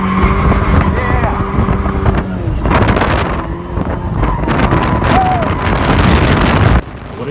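A Toyota AE86 Corolla engine drones and shifts pitch as the car is driven hard, with wind buffeting the microphone and occasional voices, then the sound drops off abruptly near the end.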